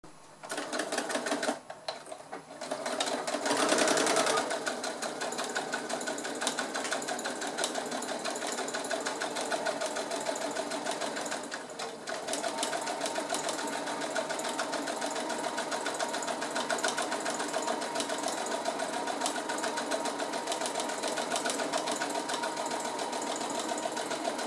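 Sewing machine quilting two layers of fabric with a lengthened straight stitch, a fast steady whirring chatter that runs almost without break and briefly pauses early on.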